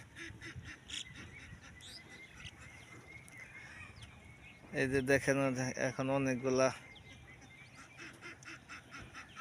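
A flock of ducks at the edge of a farm field breaks into a loud, close burst of quacking and honking lasting about two seconds, while someone talks nearby before and after.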